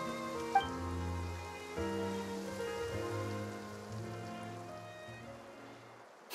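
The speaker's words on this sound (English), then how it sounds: "It rained for longer than I suspected." Rain falling in the Genshin Impact game world of Fontaine, a steady wash of drops under sustained soft music tones, with no talking.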